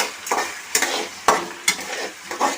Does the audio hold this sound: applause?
no